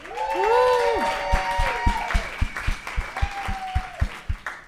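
A small crowd at a comedy show whoops and cheers, then breaks into scattered, uneven clapping that carries on steadily to the end.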